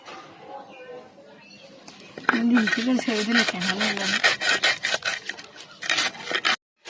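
Mustard seeds being ground into paste on a grinding stone make close, rhythmic rasping scrapes, stroke after stroke, with a brief voice sounding partway through.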